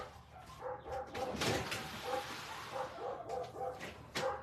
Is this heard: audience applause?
no